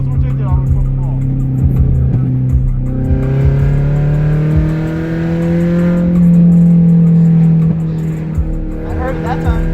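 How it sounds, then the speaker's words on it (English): A straight-piped Toyota Camry engine revs loud and close, its raw exhaust note rising and holding through several throttle blips over a steady idle, with people talking nearby. "Yo, rev it up."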